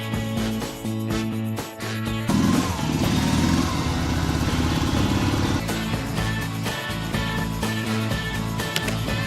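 A Soviet Dnepr 14.9 motorcycle engine runs at a steady, throbbing idle with a rougher, louder stretch partway through, close and continuous throughout.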